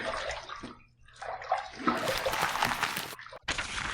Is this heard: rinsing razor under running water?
yes